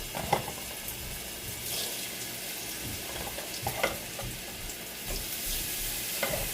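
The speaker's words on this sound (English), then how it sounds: "Y'all hear that sizzle?" Steady crackling sizzle of beef cubes frying in hot grease, with occasional louder pops and stirring clinks, close up and continuous.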